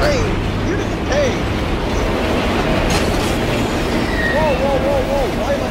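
In a video game, a train rolls along rails with a steady rumbling roar and repeated high wheel squeals, loud and continuous throughout.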